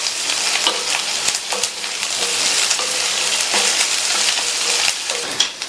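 Crushed ginger and garlic sauté in a hot pan, a loud, dense, close sizzle with occasional stirring scrapes, heard alone.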